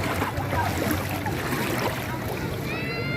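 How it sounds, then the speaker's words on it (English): Water laps and churns around a floating alcohol boat at Bora Bora in Cordova, Cebu, Philippines, a steady close wash of waves with faint wind, and a brief higher tonal sound near the end. "The floating alcohol boat."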